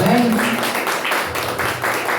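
Applause from a church congregation during an evening worship service, a steady wash of clapping that continues across the whole moment while a voice carries on over it.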